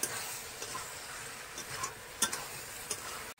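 Chili powder and spices being stir-fried in a pan for chana masala, a steady sizzle of frying with scattered scraping stir strokes, close and fairly quiet, no voices.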